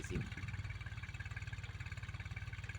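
A 40-horsepower Kubota tractor engine runs close by with a steady, rapid chugging pulse that holds an even rhythm throughout.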